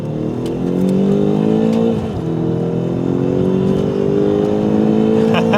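An SUV of roughly 6,000 pounds, all-wheel drive, accelerating hard from a launch, its engine note climbing steadily in pitch with a brief dip around a gear change, loud and close throughout.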